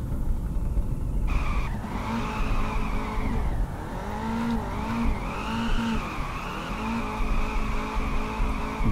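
Nissan GT-R tuned to 800 hp drifting in the game Peak Angle: a steady engine roar with wavering pitch runs the whole way, with long tire squeals sweeping up and down through a sustained slide.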